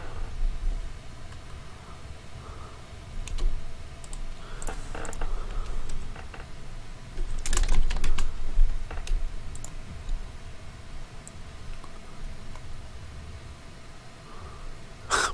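A computer keyboard clatters with steady typing, bursts of quick key clicks over a constant low hiss, with a few louder clacks mixed in.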